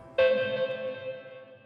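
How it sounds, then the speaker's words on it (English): A single KORG MS20 synthesizer note played through delay and reverb effects, struck sharply and then ringing as a steady tone that fades into an echoing tail. "That's a delay, and here's some reverb."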